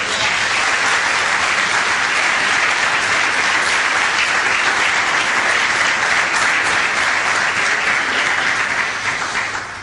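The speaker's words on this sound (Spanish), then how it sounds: "Un aplauso." A church congregation applauds in a thick, unbroken wash of clapping, loud and sustained for about ten seconds before easing slightly at the end.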